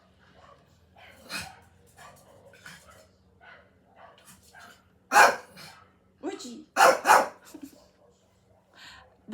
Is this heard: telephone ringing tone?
no